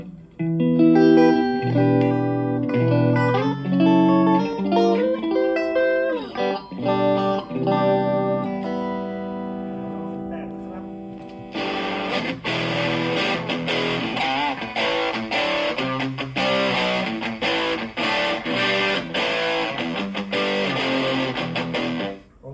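Electric guitar notes ring out through an amp's low input, then give way to thick, fuzzy distorted chords strummed loudly and continuously.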